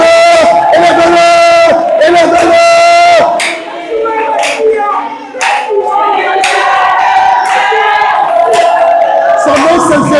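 A church congregation cheers and acclaims at a seminar closing, a dense loud roar of many voices with shouts and clapping that dips briefly midway and then surges back.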